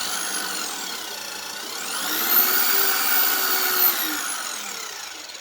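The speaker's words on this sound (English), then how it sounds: "Start the drill." A power drill spinning a Frankford Arsenal Universal Precision Case Trimmer whirs up to speed, holds a high steady spin for a couple of seconds while trimming a cartridge case, then winds back down, loud and close.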